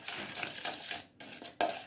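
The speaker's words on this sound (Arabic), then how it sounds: "وبعدين هاخد الفراخ بالطريقه دي كده وهقلبها كويس جدا مع الخليط ده" Raw chicken being tossed and turned by hand in a marinade of mustard, ketchup and spices, producing short wet squelching and stirring sounds in quick bursts with a brief pause, close up and without speech.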